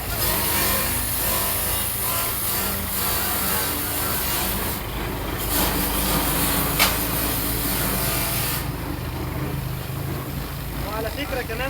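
A powerful handheld electric motor fitted with a grinder attachment runs steadily, its dense whirring grind holding for the whole stretch while someone talks over it.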